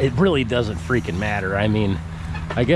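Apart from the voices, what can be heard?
No everyday noises stand out.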